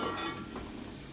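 Fish pieces frying in hot oil for fish pickle give a steady, soft crackling sizzle, close and continuous, with no voices over it.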